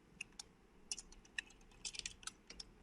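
Quick, irregular keystrokes on a computer keyboard during web coding: light, close plastic clicks with uneven gaps and a few short bursts, fairly quiet, with no talking.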